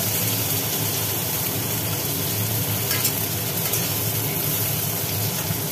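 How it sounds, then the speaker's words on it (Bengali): Onions frying in oil in a pan after cumin seeds, a steady dense sizzle that holds at an even level throughout, close and unbroken, with no talk over it. "পেঁয়াজটা একটু ভাজি ভাজি হলে"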